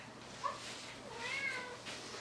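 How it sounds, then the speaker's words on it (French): A house cat meows indoors during a duo yoga session: two short, faint meows about a second apart, with no talking over them. "Ah non, le chat."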